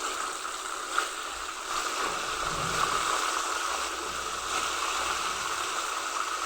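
Fried chicken pieces, just flipped in hot oil, crackle with a continuous loud hissing sizzle that holds steady throughout, with no voices.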